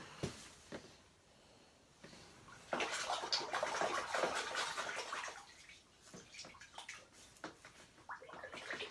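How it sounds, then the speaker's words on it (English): A paint strainer is rinsed in a water bucket, with close splashing and swishing water rising for several seconds, then sloshing bursts and drips, no voices. "So I'm going to put this down here in my rinse bucket."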